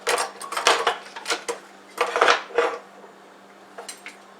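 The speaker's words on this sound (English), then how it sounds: "I'm going to take this spoon and I'm going to try and push it down into the blender." Spoon pushed down into a blender of celery, a series of clinking, scraping metal-on-glass knocks in irregular bursts, close and fairly loud, fading to sparse taps.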